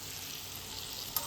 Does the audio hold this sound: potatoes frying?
yes